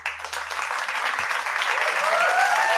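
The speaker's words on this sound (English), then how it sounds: "I want to clap it up for you for being on the show" Applause for a guest on a podcast episode: a steady wash of clapping that builds slightly louder toward the end, where a voice begins to rise over it.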